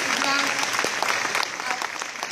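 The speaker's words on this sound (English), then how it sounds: "Another big round of applause." Sustained crowd applause at a fashion show, a dense patter of many hands that thins slightly toward the end, with a voice briefly audible over it.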